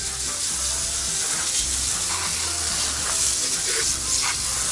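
Water spray hisses steadily against a car wheel during a rinse, a continuous close broadband wash with no talk over it.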